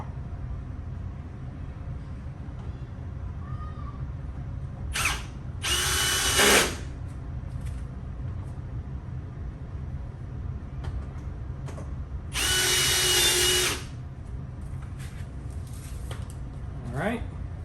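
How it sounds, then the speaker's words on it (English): A power driver tightens 10mm bolts while a hidden LED light bar goes into the bumper of a 2021 Toyota Tacoma SR5 Trail Edition. Two loud, short whirring bursts stand out over a steady low hum, with a few faint clicks between them. "Use our driver for the 10mm bolts."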